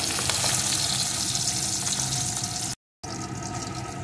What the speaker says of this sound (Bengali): এই মাছ কিন্তু খুব নরম হয়, তাই সাবধানে এপিটোপিট একটু ভেজে নেব।